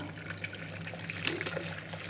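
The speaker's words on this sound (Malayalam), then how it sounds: "ഈ ഒരു ചൂടുവെള്ളം ഈ ഒരു കുക്കറിനകത്തേക്ക് ഒഴിച്ചു കൊടുക്കാം" Hot water is poured into a pressure cooker, making a soft, steady trickle and splash that is quiet and close, with no talk over it.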